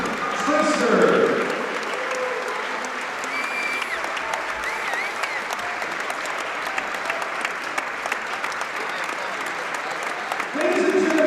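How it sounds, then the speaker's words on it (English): Sustained crowd applause in a college gym honoring a group of basketball alumni, including a Hall of Fame former head coach, steady and dense throughout with a louder swell near the start and again at the end. "please join Eureka College and give this fantastic group of alumni another round of applause"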